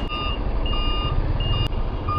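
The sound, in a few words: lorry reversing beeps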